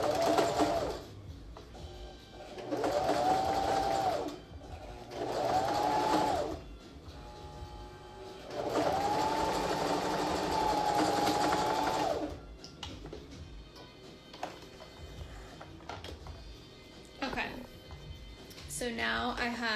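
A sewing machine zigzag-stitches a face mask in several bursts of rapid whirring, some short and one longer run, with a person talking in the pauses between them.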